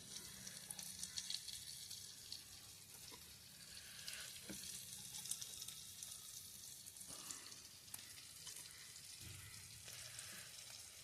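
Fish sizzling and frying steadily in hot oil over a wood-fired clay stove, a continuous close crackle with occasional soft scrapes and stirs, no voices.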